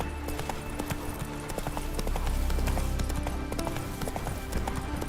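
Roach the horse's hooves clip-clop steadily on hard ground in the video game Witcher 3, a close, continuous rhythmic trot with faint background game ambience.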